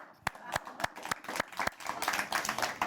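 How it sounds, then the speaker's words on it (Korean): Studio audience at a Korean lecture show clapping on cue, a dozen or so sharp separate claps building into a loose, fairly quiet round of applause. "박수!"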